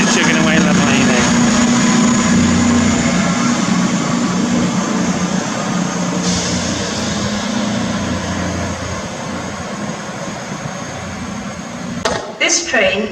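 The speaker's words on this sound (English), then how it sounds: "cross-country service to Manchester Piccadilly from Bristol Temple Mead. And she's chugging away lovely there." Cross-country passenger train from Bristol Temple Meads to Manchester Piccadilly chugging at Stafford station, a loud steady diesel engine drone with low rumble that fades slightly over time, ending with a brief clatter.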